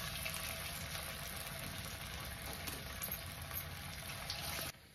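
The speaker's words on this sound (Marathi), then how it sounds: "तर आता एक एक उचलून आपण तेलामध्ये टाकणार आहे।" Vada pieces, a Marathi shyabu vada recipe, dropped one by one into hot oil and frying, giving a steady close hiss and sputter that continues evenly and drops off sharply near the end.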